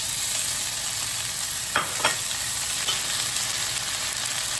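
Cooked shredded pork goes into a hot pan with onion for a Chinese side dish, giving a steady sizzle of stir-frying, with two brief scraping stirs partway through.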